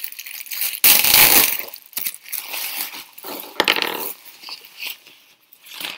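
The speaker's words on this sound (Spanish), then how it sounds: "Perdón por el ruido de la bolsa." Plastic bag being opened and handled, giving crinkly, crackling rustles in irregular bursts, loudest in a sharp crunch near the start and then continuing in smaller scrunches close to the microphone.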